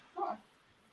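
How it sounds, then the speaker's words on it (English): A dog gives a single short, faint bark or yip indoors, then quiet. "Do you know what it was barking at?"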